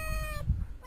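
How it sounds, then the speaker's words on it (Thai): A pet grey tabby cat gives a single clear meow indoors, close and fairly quiet, followed by a short second mew at the end. "ขอโทษครับแมวป่วน"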